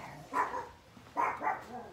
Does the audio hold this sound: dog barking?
yes